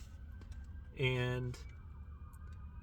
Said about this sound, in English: excuse the background noise if you can hear those sirens.